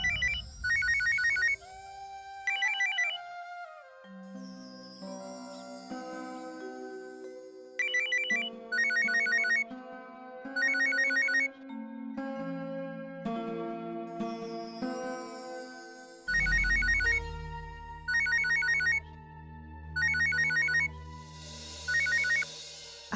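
A phone ringtone plays repeatedly, bursts of bright trilling rings alternating with a melodic tune, loud and close, continuing for a long stretch.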